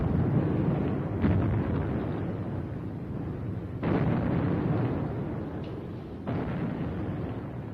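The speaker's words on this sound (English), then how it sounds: "the noise you can hear is the German army." Distant German army artillery fire rumbles as heavy, muffled booms, with three stronger low blasts rolling out over a continuous deep drone, no voices present.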